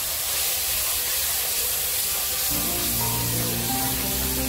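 Dried red chillies, bay leaf and a tomato-onion puree go into hot oil left from frying potatoes for a hill-style chicken curry, giving a loud, continuous hissing sizzle that runs the whole time, with a low tonal hum joining midway.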